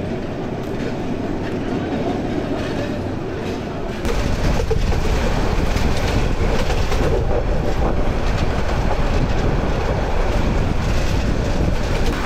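The Mahanagar Express runs along the tracks with a dense, continuous rumble and rattle that jumps noticeably louder partway through and stays heavy, with wind buffeting throughout.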